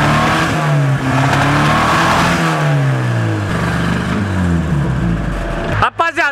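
A Chevrolet Chevette engine runs loudly nearby, revving up and down in long sweeps before cutting off abruptly near the end.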